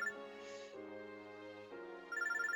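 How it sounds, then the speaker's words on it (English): A phone droid rings in the video game Robotics;Notes Elite, a clear electronic ringtone melody that changes tone in steps and ends in a bright trilling burst, with no talk. "I get a call on my phone droid."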